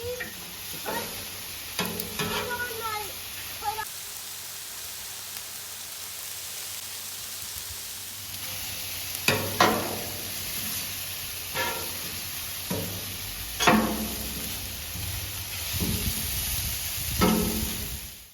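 Chicken fajitas sizzle on a Blackstone griddle while a spatula scrapes and taps the hot flat-top in several separate flips, over a steady soft hiss, with no talk.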